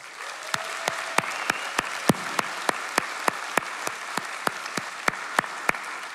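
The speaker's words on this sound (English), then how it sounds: "I think you all deserve an incredible round of applause as well." An audience at a student science competition's closing ceremony claps for the competitors, with sharp, evenly spaced claps about three per second over a steady wash of crowd noise, as if clapping together in rhythm.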